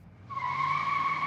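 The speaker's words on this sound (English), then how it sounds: "a shabby old Ford Taurus squealed through the parking lot" Tires on an old, shabby Ford Taurus squeal through a parking lot, a sustained high tonal screech that starts abruptly and holds steady, fairly faint and alone.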